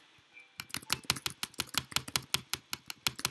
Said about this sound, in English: This is me spam clicking without the glitch